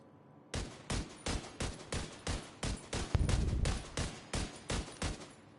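Rifle shots from an M1A in a shooter video game, about fourteen sharp, loud reports fired in a steady semi-automatic rhythm, roughly two per second, with no voices.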